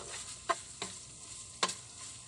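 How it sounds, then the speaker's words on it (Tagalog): Leftover corned beef sautéing in a pan gives off a low, steady sizzle, broken by a few sharp scraping strokes of a utensil stirring it, close and fairly quiet with no talking. "ginigisa ko na yung corned beef kong natira kagabi at lagyan ko siya ng itlog"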